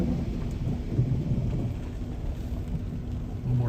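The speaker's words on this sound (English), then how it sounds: "One more thunder, you hear that?" Thunder rumbles through a Miami spring thunderstorm, a low continuous roll under steady rain, fairly loud and close, with no talking.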